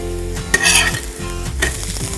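A mentya rotti, a thin fenugreek flatbread, crisps on a hot pan with a steady close sizzle, punctuated by a couple of sharper scraping clinks of a utensil against the pan.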